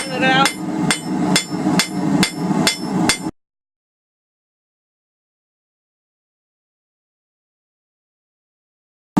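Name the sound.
hammering hot steel to flatten bottle opener end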